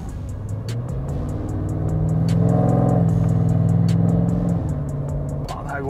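A race car drives fast on the Anderstorp circuit, its engine roaring loud and close with a rising and holding pitch as it accelerates down the track, with steady wind and road rumble underneath.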